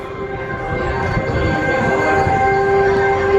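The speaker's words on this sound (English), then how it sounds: "I believe the train goes above us" A loud rumbling train passes close overhead at Disneyland's Galaxy's Edge, with sustained tonal whine and screech over a heavy low roar, continuous throughout, no talking.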